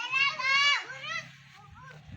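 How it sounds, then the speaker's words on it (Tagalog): Children playing outside behind a house on a laundry day, high excited voices shouting and chattering nearby in short bursts. "At yung mga bata nandito po sa likod ng lalaro."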